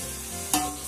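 Green chillies, tomato, mint and coriander fry in a pan for chicken dum biryani, giving a steady sizzling hiss broken by a single quick scrape of a stirring spoon.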